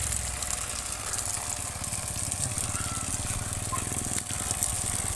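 A DIY home water system with its pump running steadily, giving a continuous motor hum with a rhythmic pulsing low drone under a broad wash of flowing water, close and even throughout.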